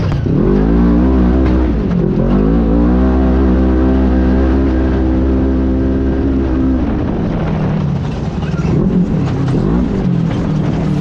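An off-road vehicle on Tusk Gladiator axles climbs a rock ledge during a race. Its engine revs loud and close, rising and holding a strained growl, then dropping back before surging again.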